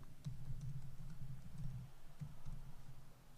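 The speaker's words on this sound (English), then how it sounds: "So I'll just go ahead and type my password" A password is typed on a computer keyboard, a quiet run of soft key taps under a low hum, with no talking.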